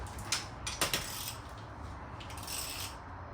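A wrench cracking loose the head stud nuts on an 850 HP engine, a few sharp metallic clicks and clanks early on over a faint background hiss.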